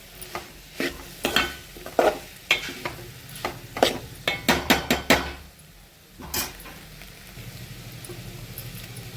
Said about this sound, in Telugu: కారం అయితే వేగిపోయింది కదా.